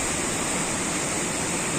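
The flooded Thamirabarani river rushes fast over rocks, making a loud, dense, unbroken roar of churning water that fills the whole clip.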